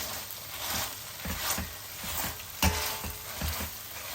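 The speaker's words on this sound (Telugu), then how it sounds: "ఇట్లా మెత్తగా స్మాష్ చేసేసుకోండి" Cooked tomatoes being mashed in a pan for raw mango rasam, with soft repeated squelching and scraping strokes against the pan in an irregular rhythm, close by and without talk.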